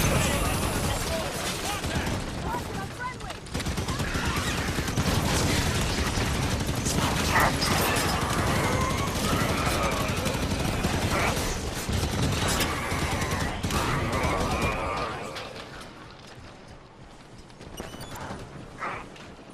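Sustained weapon fire in the Halo 5: Guardians campaign, dense bursts of shots and mechanical clatter over about fifteen seconds, with someone talking over it before the shooting fades out.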